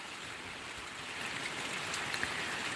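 Steady rain falling in a village after a night storm, an even hiss of drops with faint patter on surfaces, continuous and fairly close.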